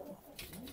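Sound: pigeons cooing

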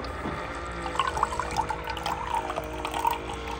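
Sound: Bartesian cocktail machine pumping water through line

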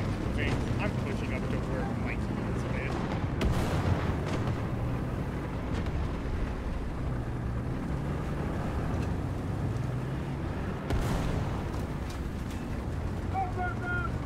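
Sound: gunfire and artillery shooting at a tank in War Thunder video game

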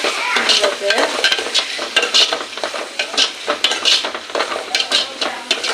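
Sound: sautéing green turkey berries (sundaikai) in oil

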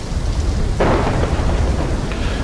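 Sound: thunderstorm in video game Call of Duty Black Ops 3

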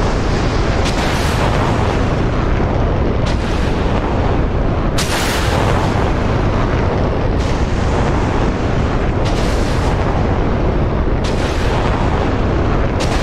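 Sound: PAC-3 missiles firing in a military video game

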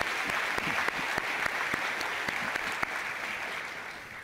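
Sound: audience applause at an annual meeting

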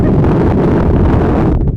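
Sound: strong wind on a hilltop

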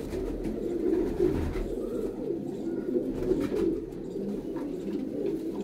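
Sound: pigeons cooing

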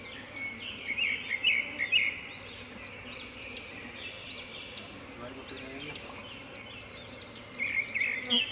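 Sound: swarm of bees buzzing around opened hive

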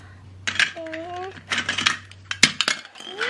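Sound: cutting a toy green pepper with a toy knife

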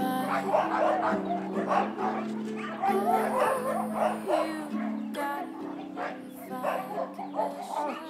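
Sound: frightened young dog

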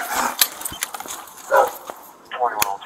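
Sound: pit bull dog barking

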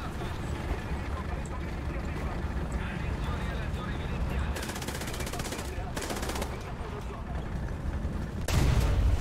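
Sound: gunfire in War Thunder video game

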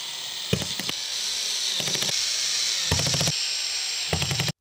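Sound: cordless screwdriver driving screws

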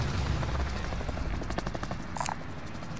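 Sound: helicopter in video game Call of Duty Warzone Rebirth

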